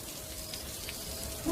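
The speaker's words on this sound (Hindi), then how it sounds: "बारिश इतनी तेज थी" Heavy rain pours down on a dark night, a steady, dense hiss that holds evenly throughout without pauses.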